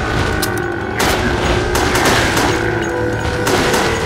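Gunfire from Resident Evil: The Darkside Chronicles, a rail-shooter video game, with several loud shots spread across a steady, dense background of in-game action and noise.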